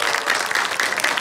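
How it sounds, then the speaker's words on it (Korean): A short burst of audience clapping at an author talk, a dense, even patter of many hands filling the whole moment at close range. "박수 치고."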